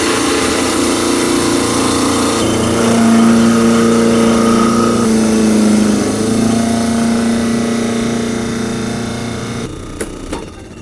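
A Waring food processor runs loudly and steadily with a high motor whine and shifting pitch as the blade works through strawberry ingredients, then cuts off near the end, leaving a few faint clicks.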